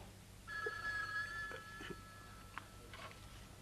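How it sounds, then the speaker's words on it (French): A telephone rings once with a bright electronic tone, fairly faint against a quiet room background, followed by a few soft knocks and movements. "le patron téléphone"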